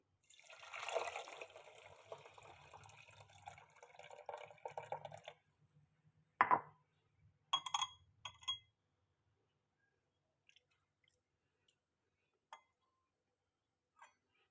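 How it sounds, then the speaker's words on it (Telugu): Water pours steadily for several seconds, then stops, followed by scattered drips and light clinks in near silence. "ఈ వాటర్ని ఇందులో వేసేసుకోవాలండి"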